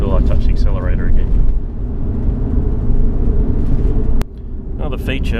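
Mitsubishi Pajero NT engine with automatic transmission rumbling loudly inside the cabin as the accelerator is pressed, a steady low drone beneath someone talking, with a brief click partway through.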